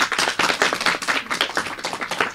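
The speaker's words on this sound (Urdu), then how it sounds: "تالیاں" Audience applause at a Pakistani children's event, dense crowd clapping that swells and dips in waves throughout, fairly close and loud, with no voices over it.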